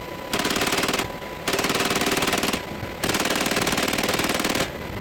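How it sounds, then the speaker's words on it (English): A door gunner fires a helicopter-mounted machine gun in rapid sustained bursts, four long loud strings of automatic fire separated by brief gaps, close and alone. "she combined her shooting with her flying to qualify as a door gunner"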